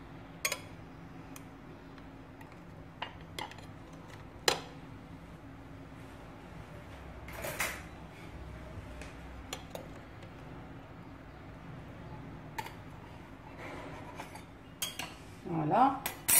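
Cutlery cuts caramel custard (crème renversée) into pieces on a plate, making sparse, soft clinks and taps of metal against the dish, scattered and quiet over a low background hum.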